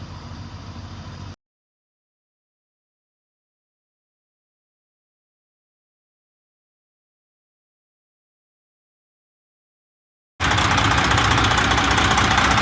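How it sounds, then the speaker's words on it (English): A semi truck's diesel engine running after finally starting: a short burst of steady idling, then several seconds of silence, then the engine returns louder and close, rumbling evenly. "So family, as you guys can see and hear, I finally get the truck up and running."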